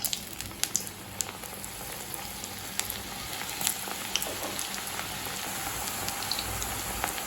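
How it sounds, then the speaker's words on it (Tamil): Cauliflower fries in hot oil on a medium flame, a steady crackling sizzle with scattered pops that runs alone, without speech. "இப்போ நம்ம காலிஃப்ளவர் போட்டு பொரிக்க ஆரம்பிச்சிடலாம்."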